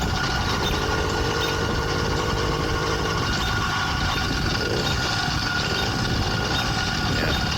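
A 100cc motorized bicycle engine with a reed valve, running steadily, a continuous dense drone with rough buzzing texture, loud and close without pause.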